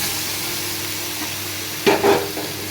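Vegetables for a Punjabi cauliflower and potato dish sizzle in a hot pan, a steady quiet frying hiss broken near the end by a couple of louder bursts as more pieces go in.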